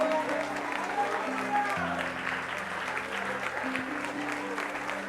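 Clapping from a church congregation at a congress service runs as a continuous even patter over held keyboard chords, with the applause staying steady and moderately loud from start to finish.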